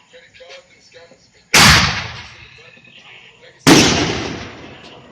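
Two loud 60 gram Great Grizzly firework canister shells explode in a backyard, each a sharp, booming crack with a long crackling decay, about two seconds apart after a quiet start.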